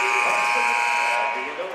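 A loud electronic buzzer sounds at the end of a quarter in a women's college basketball game, a sustained harsh tone held for over a second with an announcer talking over it.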